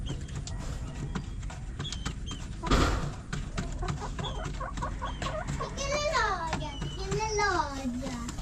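Chickens cluck and squawk in short, rising and falling calls, growing busier toward the end, while children and adults talk nearby.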